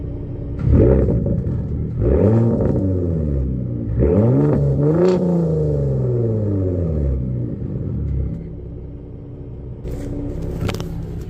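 A pickup truck with its exhaust set to Baja mode, changed from a steering-wheel button, revs in several loud, deep bursts that swoop up and fall back, then settles into a lower idle rumble.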